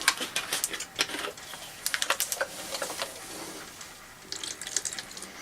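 Water splashes and trickles into a seed tray, in irregular bursts of spattering with short pauses, close and fairly loud, no voices.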